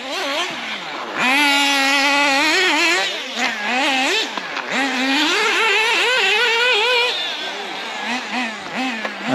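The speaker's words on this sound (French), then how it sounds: "on va se tester le Avio Racing, la machine tombola gratuite" A small Avio Racing radio-controlled car fitted with Lobao wheels drives with a high-pitched electric whine that rises and falls steadily as it speeds up and slows, loud and close, with talk over it.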